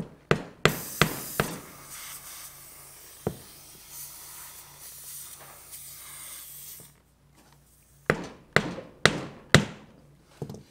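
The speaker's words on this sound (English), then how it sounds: "use the old hammer to get this to go in there." Sharp hammer blows driving a tire plug into a flat Bad Boy Maverick mower tire, a quick cluster of strikes, a single hit, then another rapid burst of close, ringing taps.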